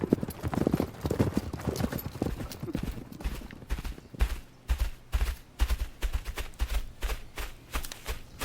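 Several horses' hooves clip-clop steadily along a road as riders head out of a town's eastern gate, a close, continuous rhythm of overlapping hoofbeats with no talking.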